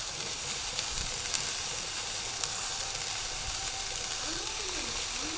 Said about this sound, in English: Into the frying pan we go.